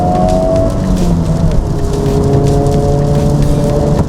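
Artificial engine sound in R mode inside a 2025 Honda Civic Type-R, a steady synthetic tonal hum that glides in pitch while the car drives on wet roads amid road and rain noise, with no talking.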